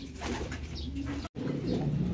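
Racing pigeons coo back at the loft after a race arrival, low repeated calls over steady background noise, broken by a brief dropout, with a faint flutter of wings.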